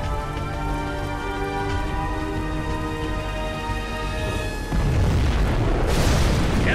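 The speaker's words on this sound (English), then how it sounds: "We have launched our nuclear missile." Nuclear missile launch in Command & Conquer Generals Zero Hour, with a sustained tonal hum giving way midway to a loud, broad roaring rush that swells and persists to the end.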